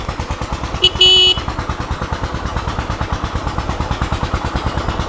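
A small-engine goods vehicle at a fair, loaded with vegetables, labours up a hill road. Its engine chugs in fast, even pulses throughout, and one short horn blast sounds near the start.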